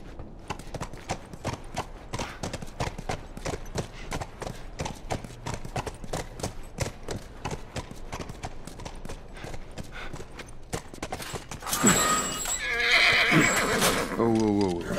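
In The Last of Us on PS4, a steady clip-clop of horse hooves trots along, then a loud horse whinny rings out near the end, up close over the hoofbeats.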